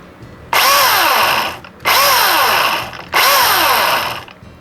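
Milwaukee M18FCHS cordless battery chainsaw run in three loud bursts, each a high whining buzz lasting about a second with short pauses between, up close and alone.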